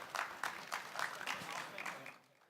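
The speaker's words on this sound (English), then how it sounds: "let's give Mike a round of applause before he gets out of here" A small group at a climate finance panel applauds a speaker, with individual claps distinct in a loose, uneven rhythm, fairly faint, and trailing off toward the end.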